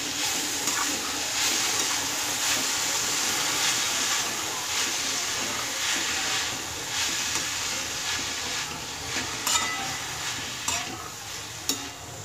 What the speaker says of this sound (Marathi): आता ही मेथीची भाजी आपण याला व्यवस्थित आता मिक्स करून घ्यायचं आहे